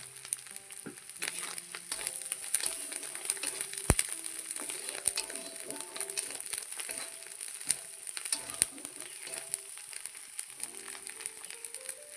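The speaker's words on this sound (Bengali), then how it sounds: "মশলা কষানো হয়ে গেছে।" Dry spices, ground dried chilli among them, frying in a pan as a masala is cooked down, a steady close sizzle and crackle with faint stirring scrapes throughout, no talk.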